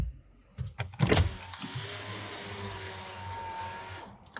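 A few clunks and clicks, then an electric power window motor in a Nissan Livina 1.8 whirs steadily for several seconds as the glass slides down.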